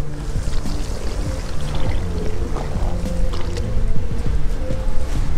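Water poured onto a cellular nano-style car floor mat, a continuous splashing, gurgling pour close by with soft squishes, no talking.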